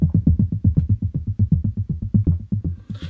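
A rapid, evenly pulsing acid arpeggio preset from the Bleass Alpha synthesizer with squelchy, resonant low notes repeating steadily for a few seconds.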